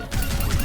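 Bastion's default gun in the video game Overwatch 2 fires a short, dense burst of rapid shots, loud and close, lasting under a second.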